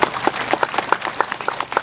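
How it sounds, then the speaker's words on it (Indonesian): A crowd at an Islamic sermon claps for the Bengkalis regent, a brisk burst of rhythmic, fairly close hand claps in quick succession. "Tepuk tangan tuh Pak Bupati"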